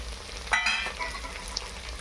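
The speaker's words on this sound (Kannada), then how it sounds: "ಸ್ವಲ್ಪ ಫ್ರೈ ಮಾಡಮ್ರಿ ಕ್ಯಾರೆಟು ಬೀನ್ಸು ಚೆನ್ನಾಗಿ ಎಣ್ಣೆಯಲ್ಲಿ ಫ್ರೈ ಆಗಬೇಕ್ರಿ" Carrots and beans frying in oil in a pan for vegetable pulao, giving a soft steady sizzle with a brief louder burst of stirring near the middle.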